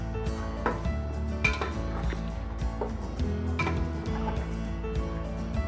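Whole spices (star anise, green and black cardamom, cinnamon) are mixed into a large biryani pot at a Karachi street-food stall, giving repeated metallic clinks and scrapes over a busy background hum.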